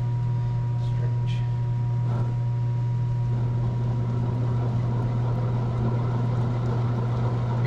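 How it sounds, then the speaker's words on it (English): A Polaris 700 engine is turned slowly at about 40 RPM during a teardown, its noisy bearing giving a steady low whirring drone, loud and continuous, with a few faint clicks early on. "That's a noisy bearing."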